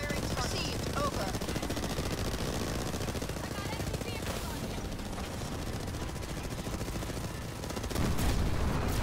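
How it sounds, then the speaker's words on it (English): Vehicle gunfire in the Halo Wars 2 video game, dense rapid automatic bursts running continuously at close range, growing louder in the final second. "They're trying to take me down with vehicle fire."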